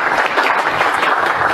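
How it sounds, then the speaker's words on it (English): An audience at a live magic show applauding steadily, dense clapping that stays loud and even throughout with no talk over it. "Let's give a huge round of applause for Dani DaOrtiz."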